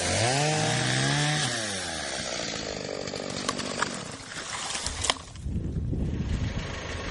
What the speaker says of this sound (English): And I'll get my chainsaw.